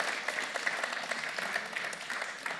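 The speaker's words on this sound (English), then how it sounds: "please give our panel a very big round of applause" Audience at a sustainable agriculture panel Q&A claps steadily in a dense, even round of applause, moderately distant and without talk.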